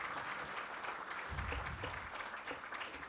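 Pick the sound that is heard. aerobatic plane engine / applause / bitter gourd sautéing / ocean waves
applause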